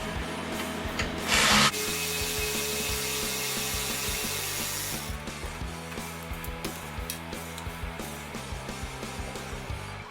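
Hand tools work on a motorcycle with a 4mm Allen socket during maintenance, giving close ratcheting clicks, scraping and small metallic knocks, with a brief loud burst near the start.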